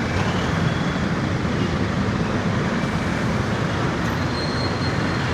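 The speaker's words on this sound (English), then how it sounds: "And traffic, of course." Dense, continuous roar of street traffic near a bridge, a steady broadband rumble of passing vehicles close by, with faint higher whines and no talking.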